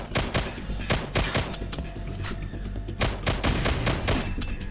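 Rapid gunfire from the Outlier VR shooting game fills the scene in dense, loud bursts of repeated shots and impacts, with no talking over it.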